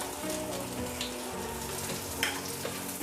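Onion and garlic sauté in a pot, giving a close, steady sizzle with light spattering and a few stirring clicks.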